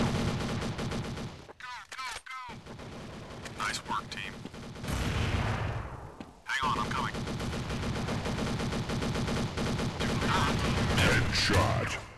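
Counter-Strike gunfire on the Town map, including a P90, fires in dense rapid bursts and steady automatic streams, near and loud, with brief pauses and mechanical clicks between volleys.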